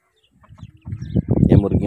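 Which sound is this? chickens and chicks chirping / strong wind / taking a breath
chickens and chicks chirping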